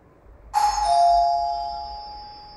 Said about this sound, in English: Somebody has to ring the bell